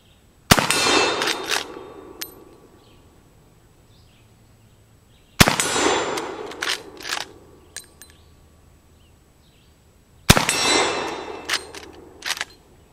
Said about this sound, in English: we've got the Model 71 loaded up with some 405 grain Remington soft point 45-70 rounds. So let's see if we can tickle his plates